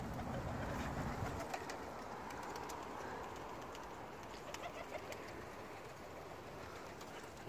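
Iranian and Pakistani pigeons coo softly and repeatedly under a steady wash of broadband background noise that lasts throughout.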